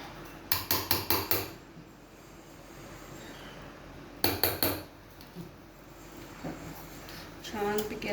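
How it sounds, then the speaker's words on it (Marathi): Chole pakoda batter is mixed in a large metal vessel, with two quick bursts of rapid rhythmic clinks and scrapes of a utensil against the pot and quieter stirring in between. "छानपैकी असं मिक्स करून घ्यायचं, एकजीव करून घ्यायचं छानपैकी."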